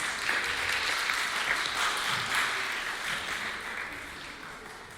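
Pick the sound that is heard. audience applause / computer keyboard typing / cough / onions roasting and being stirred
audience applause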